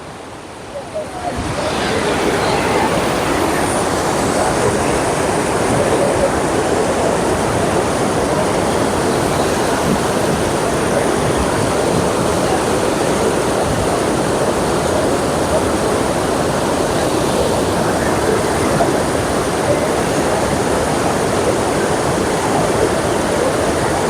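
Rain-swollen water pours from Vellalapuram lake toward the Sarabanga river, filling the scene with a dense, continuous roar that stays loud and near throughout.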